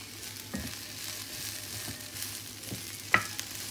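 Green beans sizzle softly in olive oil while a utensil stirs them, making occasional scraping knocks and one sharp clink against the pan near the end.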